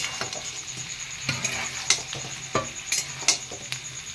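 Chicken pakoras stir-fried in a pan with fried onion and capsicum, soft sizzling under a spatula scraping and tapping the pan in irregular clicks.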